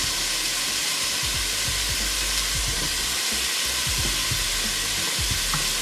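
Andouille sausage fries in a pot for minestrone soup with orzo, a dense, constant loud sizzle and hiss with low bubbling underneath, close up and without talk.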